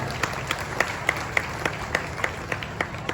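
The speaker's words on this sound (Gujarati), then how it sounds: "જોરદાર તાળીઓ પાડો" A crowd at a political gathering applauds enthusiastically, dense clapping with sharp individual claps standing out near the front, sustained and fairly loud without any voices.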